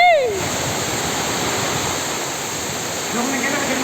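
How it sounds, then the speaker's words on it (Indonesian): Heavy rain and strong storm wind roar as a steady, loud broadband wash throughout, with brief voices near the start and end. "Anginnya ngeri."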